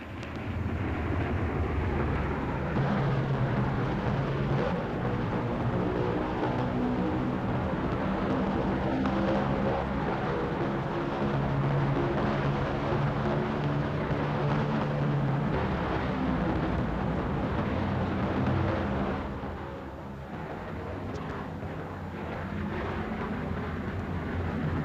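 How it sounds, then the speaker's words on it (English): Fighter aircraft engines at full throttle as combat begins, a dense, continuous roaring drone that holds steady and dips briefly before resuming. "The throttles are blasted forward as the combat begins."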